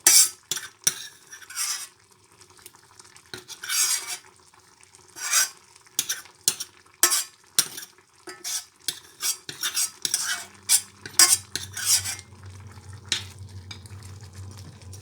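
A utensil scraping and stirring in a pan in repeated rough strokes, with a low sizzle rising toward the end; no voices.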